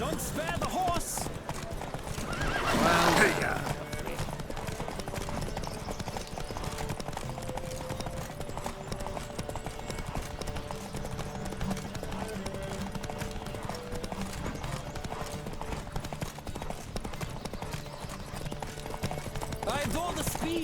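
A horse gallops in a race in The Witcher 3, with fast, continuous hoofbeats throughout and a brief neigh or shout near the start, under game ambience.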